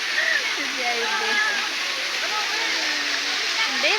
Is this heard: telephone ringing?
no